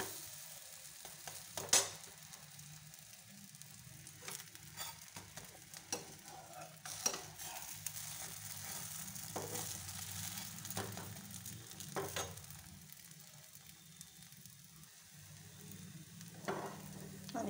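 Pancakes frying in a pan give a quiet, steady sizzle with occasional sharper clicks and scrapes of a utensil, continuing throughout without speech.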